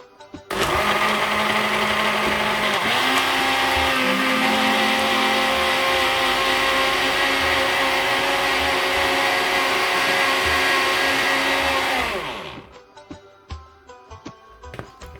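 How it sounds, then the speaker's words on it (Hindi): Electric blender whirring through a drink made with lemon juice and 7 Up, a loud continuous motor roar that starts abruptly, holds steady for about eleven seconds, then winds down and stops, followed by faint clatter. "7 अप डालूंगी, ब्लेंड कर दूंगी।"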